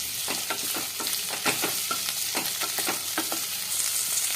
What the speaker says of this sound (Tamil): பட்டாணியும் நம்ம நல்லா வதக்கி விட்டாச்சு